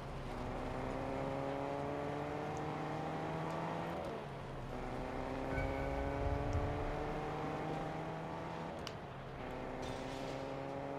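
A car engine in Fortnite revs steadily and fairly loud for the whole clip, its pitch climbing and resetting like gear changes, with a brief thump partway through.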